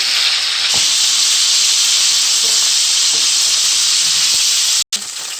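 Prawns sautéing in hot oil for a prawn sauce give off a loud, steady broadband sizzle and hiss that runs without a break. Near the end the sound cuts out for a moment.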